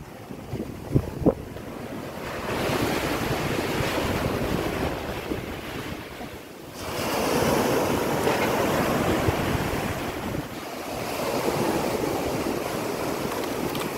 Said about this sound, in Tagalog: Pumasok na ang dagat papuntang sapa.